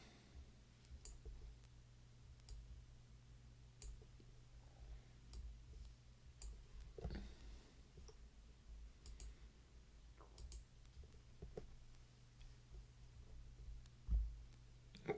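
Soft mouse clicks while editing in Kdenlive, scattered faint taps spread irregularly over a low steady hum, with one slightly louder thump near the end.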